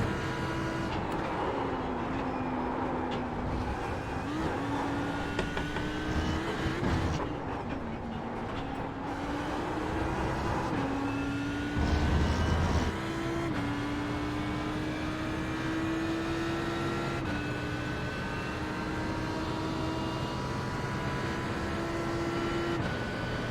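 GT race cars in the iRacing Sebring 12 Hour sim race roar close by, a continuous engine drone that climbs in pitch through repeated gear shifts over more than twenty seconds, with no talking.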